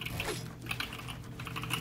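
Rapid, continuous clicking of a GK61 mechanical keyboard with yellow switches, close and steady with dense keystrokes throughout, no voices.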